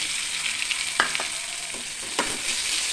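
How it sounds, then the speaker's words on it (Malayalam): Long-sliced onions sautéing in a pan with ginger, green chilli and garlic for masala dosa filling, a steady close sizzle with a few sharp spoon-scrape stirs over it. "അതിലേക്ക് നമ്മൾ വലിയ ഉള്ളി നീളത്തിൽ എരിഞ്ഞത് ഇട്ട് കൊടുക്കുന്നുണ്ട്"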